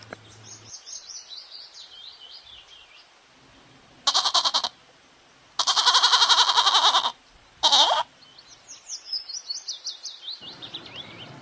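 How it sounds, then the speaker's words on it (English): Three loud, close goat bleats in quick succession, the middle one longest, set between stretches of chirping birdsong. "G for goat."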